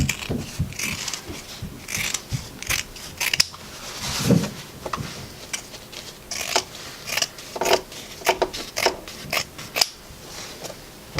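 Fabric scissors snip along a sewn zipper bag's seam allowances, trimming them to between a quarter and three-eighths inch, in a series of close, crisp cuts with short pauses and some handling rustle.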